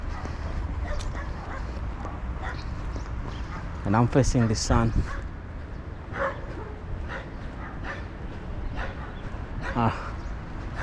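Several dogs bark and yip from a distance in a leafy Waterkloof suburb of Pretoria, with a brief flurry of sharp yelps in the middle, while someone talks close by on a walk.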